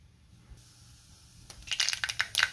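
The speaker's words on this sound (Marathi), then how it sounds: "जिरे मोहरी तडतडली," Mustard seeds and cumin spluttering in hot oil in a kadhai, quiet at first, then a rising burst of sharp crackling pops that grows denser and louder toward the end.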